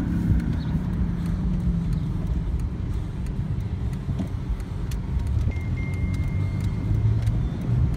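A 2003 Pontiac Bonneville SE sedan with a 3.8 V6 pulls away under acceleration, giving a steady, fairly loud engine and road rumble from inside the car, with no talking.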